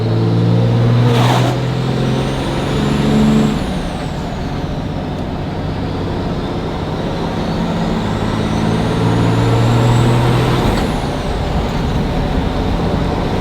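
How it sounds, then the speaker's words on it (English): A heavy third-generation Cummins diesel truck rumbles loudly with a deep, rattling engine drone, its exhaust brake barking and pitch rising and falling through gear changes. "The exhaust brake sounds nasty."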